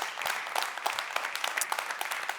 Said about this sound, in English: can I have a big round of applause indeed for the ICMM Dance Ensemble?